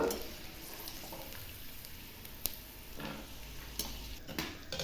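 Lentils frying in a pan for mango pulihora, with a soft continuous sizzle, scattered clicks and scrapes as they are stirred and lifted out, fairly quiet and close.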